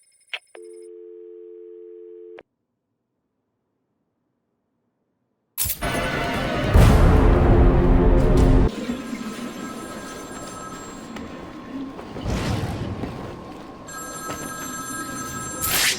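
A phone rings in Batman: Arkham City, a short electronic trill first, then after a pause a loud busy mix of ringing tones and clatter that carries on steadily.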